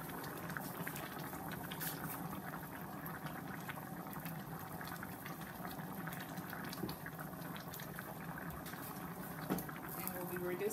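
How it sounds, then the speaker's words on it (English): Rice and water boiling hard in a pot on the stove, a steady bubbling churn that holds at an even level throughout. "we're letting it boil for 1 minute with the rice"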